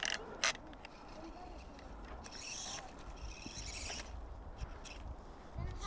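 A WLtoys 184021 RC crawler runs in high gear, its small drivetrain giving off a steady mechanical whir and gear rattle over rough ground, with a voice briefly heard nearby.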